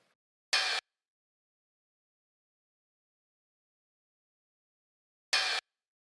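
A dry hi-hat in an Ableton trap beat, heard as two short, bright, isolated hits about five seconds apart with silence between them.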